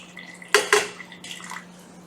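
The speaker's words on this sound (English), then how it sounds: "just dump it right through the strainer" Stock is dumped from a pot through a metal strainer, giving two sharp clattering splashes close up, then a softer trailing pour and dribble.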